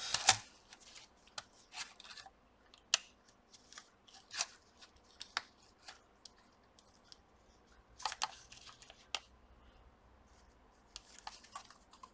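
An HP 2000 laptop keyboard ribbon cable is fitted into its connector during a thermal paste job, giving sparse, close, quiet plastic clicks and ticks at irregular intervals, with one denser cluster later on.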